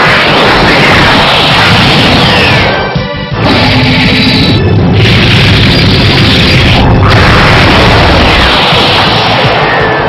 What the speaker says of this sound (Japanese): 大砲発射。